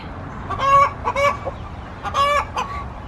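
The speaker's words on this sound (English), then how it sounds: "We call it the laying egg song." A hen's loud, excited clucking in two bursts of repeated squawking calls, close by, with a faint background hum.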